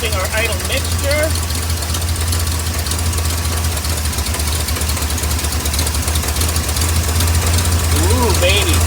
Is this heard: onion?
no